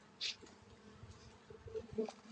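Honeybees hum faintly around an open hive on a Texas ranch, a soft, low buzzing with light handling clicks and one sharp tick, quiet and close, with no voices.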